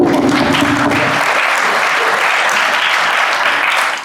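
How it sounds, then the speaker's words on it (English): Loud, dense applause fills the room at a Rotary club meeting, a continuous wash of many hands clapping close by, holding steady for several seconds before tapering at the very end. "let's give them a round of applause for doing that"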